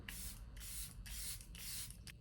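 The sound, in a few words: setting spray being sprayed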